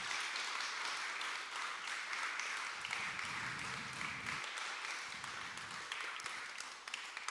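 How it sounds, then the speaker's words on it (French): An audience gives warm, steady applause after a talk, a continuous wash of many hands clapping at moderate distance, with faint low room noise beneath. "On peut l'applaudir."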